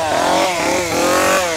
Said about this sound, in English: plenty of chainsaw crew